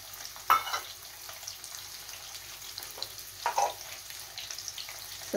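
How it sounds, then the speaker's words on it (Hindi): Potatoes fry in a pan with a faint, steady sizzle, broken by a few louder clatters and stirring scrapes, with no talking. "तो जब तक मेरा ये आलू फ्राई होता है"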